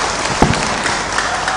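An audience in a hall at a 17 August Indonesian Independence Day event applauds loudly, giving a steady, dense clapping roar that fills the whole moment without any talk.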